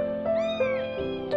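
An abandoned kitten at a market cries out in several high, plaintive meows in quick succession, close and clear over a low background hum.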